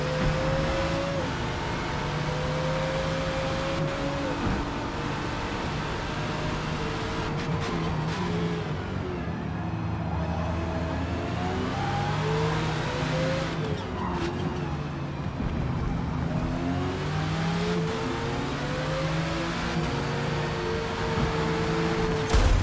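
Ferrari race car engine in the racing video game Forza Motorsport, revving and shifting through gears with a steady, continuous drone that rises and falls across the whole stretch, with no talk over it.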